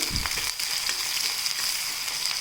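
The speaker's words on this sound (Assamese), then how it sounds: "ফুটাৰ লগে লগে মই ইয়াত দি দিম পিঁয়াজ লৰাই দিম এইখিনি" Onions sizzle steadily in hot oil with fenugreek seeds in a pan while being stirred, a loud continuous frying hiss with faint scraping, close up and with no voices.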